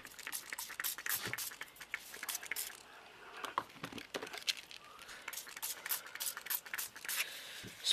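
Quick bursts of fine spray from a pump bottle, several short hissing squirts in a row, close and fairly quiet with no talking.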